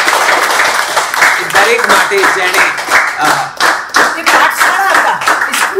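Audience at a Women's Day theatre and music event breaks into loud sustained clapping, dense applause filling the clip while a voice speaks over it.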